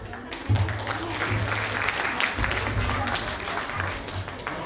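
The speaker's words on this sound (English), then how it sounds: "let's put our hands together for a huge round of applause" A conference audience at a global summit bursts into a sustained round of applause, dense overlapping clapping that holds steady throughout, with faint voices underneath.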